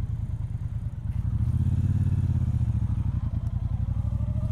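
A 2018 Triumph Bonneville Speedmaster cruiser rolls along at low speed, its engine a steady, close, throbbing low thump with an even pulse and no voices.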